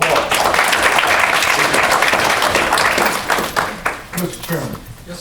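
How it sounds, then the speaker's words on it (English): An audience at a school district board meeting gives a round of applause, dense clapping that fades after about three seconds into scattered claps and talk. "Give him another round of applause."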